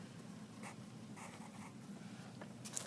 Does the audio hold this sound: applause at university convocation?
no